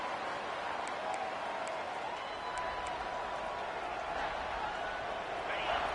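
A football stadium crowd roars steadily for the defense on a big third down. The dense, sustained cheering carries faint whistles and scattered shouts, with commentary under it.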